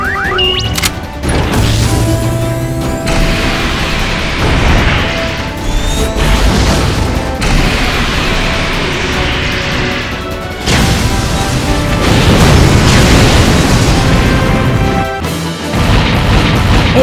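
Evangelion Unit-01 unleashes its full weapon barrage in Super Robot Wars DD, a loud, unbroken volley of blasts, crashing impacts and booming explosions that runs the whole time with barely a pause.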